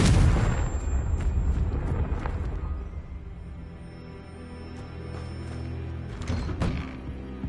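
Confringo blasting spells go off in Hogwarts Legacy as a close, heavy boom, followed by a rumbling decay and several smaller thumps and crackles.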